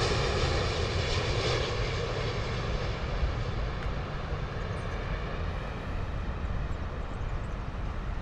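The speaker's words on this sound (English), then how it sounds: "Here we go, Virgin Atlantic Dreamliner coming in beautiful." A Virgin Atlantic Dreamliner coming in to land at London Heathrow makes a loud, continuous jet engine roar with a broad, sustained rumble and whine. The sound holds steady across the whole stretch, with no voices.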